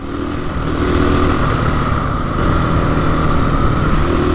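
A KTM motorcycle engine drones steadily and loudly while the bike is being ridden, a close, continuous rumbling roar with no talking over it.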